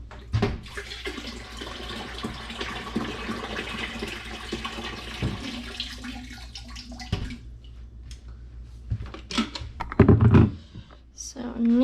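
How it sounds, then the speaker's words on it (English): Water runs and splashes into a canning pot while processing apples, with a steady pour, a few clunks and a louder gush near the end, as someone talks nearby. "I'm just gonna simply add water"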